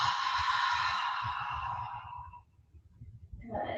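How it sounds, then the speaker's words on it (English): During a yoga class, a long, full breath is drawn in with an airy, hissing quality that fades out, followed by soft rustling and the start of another breath. "Big full breath in."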